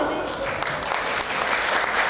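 An audience at a tourism ambassador pageant final in Boyolali applauds, a steady wash of clapping heard at moderate level throughout the short stretch.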